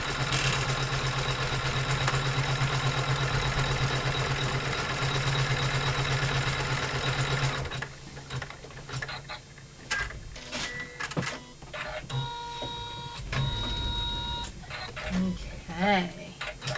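An embroidery machine stitches a design onto a laptop bag with a fast, steady mechanical whirring, then the needle drive settles into an uneven run of clicks, taps and short whines as stitching continues.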